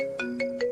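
A phone ringtone plays for an outgoing call, a steady repeating tone with three bright chimes in under a second, clear and close with no talk.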